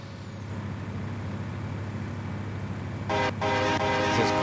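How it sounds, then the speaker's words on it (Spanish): A Kenworth W990 truck in a trucking game rumbles with a steady low diesel drone, then a sharp hissing air-brake release near the end, close and loud with no talk. "Vean nada más cómo se escucha de imponente este modelo."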